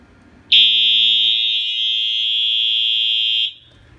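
A loud, piercing fire alarm tone from a pull station blares steadily for about three seconds, then cuts off abruptly, leaving quiet room noise.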